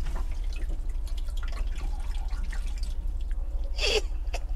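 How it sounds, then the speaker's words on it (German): Water splashes and drips steadily in the swivel bathroom of a used camper van, with a close, continuous patter of small drops and one louder splash near the end. "hier plätschert's"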